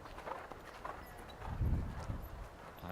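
Horse hooves thud on the ground during a show jumping round, faint muffled footfalls with a heavier landing thump midway, set against a soft background wash.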